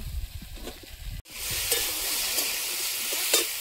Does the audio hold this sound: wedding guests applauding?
no